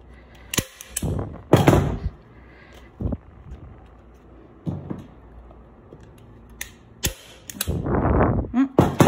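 A staple gun fires staples through canvas into prefabricated wooden stretcher bars, giving sharp, close snapping clacks at irregular intervals with handling rustles between them.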